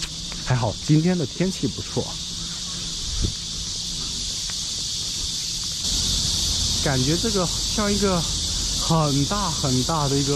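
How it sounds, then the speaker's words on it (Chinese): Cicadas droning from trees in a park near a museum on a fine summer day, a continuous shrill buzz behind someone speaking close by, which swells slightly louder in the second half. "还听到了知了的声音"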